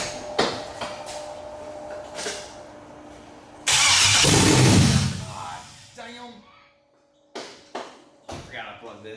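A Jeep XJ with a swapped LS V8 cranks in bursts, with a loud roar near the middle, then short cranking pulses follow in a garage setting with people talking around it.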